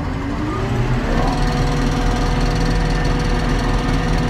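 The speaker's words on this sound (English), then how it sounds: "rev the engine." A silage harvester's heavy engine runs loudly and steadily, a deep continuous rumble with a slight rise in revs, close by and without voices.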